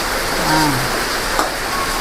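Heavy rain pours steadily with a dense, continuous hiss and a little wind, close and loud throughout; voices are faint beneath it.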